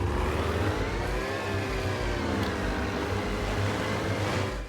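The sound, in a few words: loud boat engine in video game DayZ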